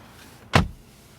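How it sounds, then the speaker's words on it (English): A car door on a 2024 Mercedes E-Class AMG wagon shuts with a single close, solid thump, brief and clean against quiet surroundings. "so door closing sound"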